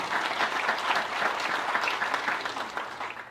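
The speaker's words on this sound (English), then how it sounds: "Give a round of applause for Morgan Castro" Sustained applause fills a hall at an academic awards ceremony for an absent award winner, many hands clapping in a dense, even wash at moderate volume with no voices over it.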